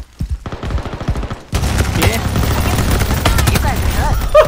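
Rapid automatic gunfire in the shooter Veiled Experts, sparse shots at first, then a loud dense barrage of bursts with sharp cracks, and a voice speaking Turkish in between.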